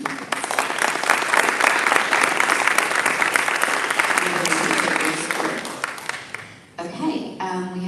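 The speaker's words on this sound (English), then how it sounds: "Let's give him a round of applause." Dense, loud applause fills a Rotary club meeting room, sustained for several seconds before tapering off into a voice speaking.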